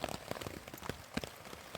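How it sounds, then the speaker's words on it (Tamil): Rain falls in a deep forest, a faint patter of scattered drops striking surfaces at an irregular rhythm, with no voices. "இப்போது மழை கொஞ்சம் அதிகமாக வர ஆரம்பிச்சிருச்சு."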